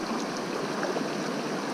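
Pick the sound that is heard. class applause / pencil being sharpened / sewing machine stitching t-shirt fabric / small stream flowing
small stream flowing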